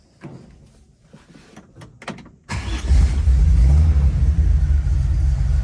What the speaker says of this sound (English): I will start it up for you and you'll see how well it idles and runs.